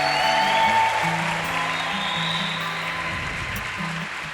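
A church congregation at a Sunday morning camp service applauds its kitchen team, a steady wash of clapping over sustained keyboard chords.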